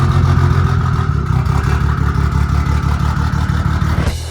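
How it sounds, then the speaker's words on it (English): A BMW F80 M3 fitted with a cheap eBay single turbo kit runs loud and close, a steady rumbling engine drone with turbo whir throughout that cuts off abruptly near the end. "I don't think I've ever heard a car with such a loud turbo before."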